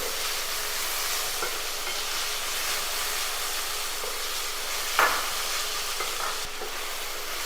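Finely chopped medium tomato being sautéed in a pan, a continuous soft sizzle and hiss with light stirring scrapes and one brief clank near the end.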